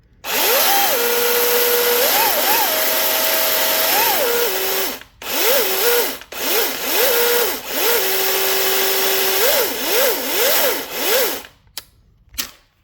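A DeWalt 60V top-handle 14-inch battery chainsaw whirs loudly and close, its motor pitch repeatedly rising and falling as the trigger is squeezed in bursts, with short pauses and a final brief rev.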